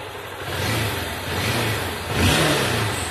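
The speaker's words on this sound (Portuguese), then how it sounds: "Barulho normal do motor" A motorcycle engine runs smoothly after a fuel and fuel-filter change, a steady close mid-pitched drone with slight rises in revs and no whistling.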